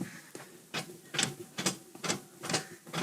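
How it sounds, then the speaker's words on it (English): A short-throw gear lever on a 2004 Subaru Forester STi's six-speed manual clicks through several quick shifts in a row, each a brief mechanical clunk, close and fairly quiet, with no talking. "because it has a feel and sound of a short shifter"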